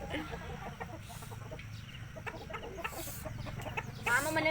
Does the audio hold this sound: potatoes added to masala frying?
no